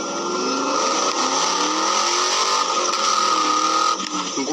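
A car driving along, its engine holding a steady droning hum with slight rises in pitch, close and loud throughout without speech.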